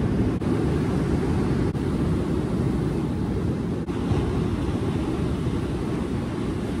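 Ocean surf breaking on the beach at Hat Head, a dense, continuous wash of waves with heavy low rumble and wind, steady and loud throughout with no voices.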